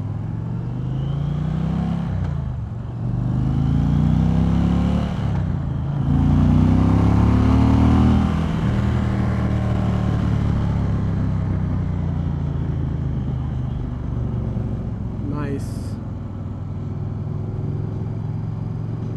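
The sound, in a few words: 2020 Indian Challenger Dark Horse motorcycle riding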